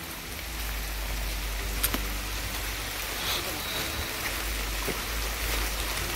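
Heavy rain falls at night on a forest footpath near houses during a crab hunt, a steady dense hiss with a low rumble throughout and a few sharper drop taps.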